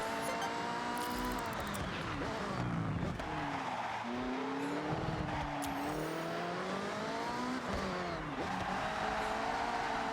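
Mercedes R-Class in Forza Horizon 6, engine revving hard through repeated gear shifts while tires squeal and skid through corners, loud and close throughout with no talk.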